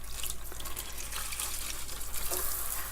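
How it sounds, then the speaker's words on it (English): Ripe garden tomatoes washed under a running tap, with a steady close stream of water splashing and sputtering over the fruit, and no voices. "I pulled out the ripest of these tomatoes and we're gonna wash those"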